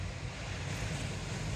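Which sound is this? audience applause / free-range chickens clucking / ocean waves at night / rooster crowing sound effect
ocean waves at night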